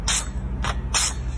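A handheld water spray bottle gives three quick, close hissing bursts, with short pauses between them.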